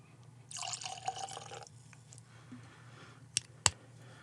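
Teeling Blackpitts peated single malt Irish whiskey is poured in a short, soft trickle lasting about a second, followed by a couple of sharp glass clicks near the end in a quiet room.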